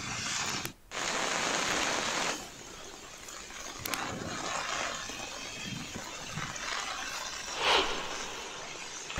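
Steady, dense hiss of heavy monsoon rain pouring down in Mumbai, loud and continuous with a brief dip near the start, no voices.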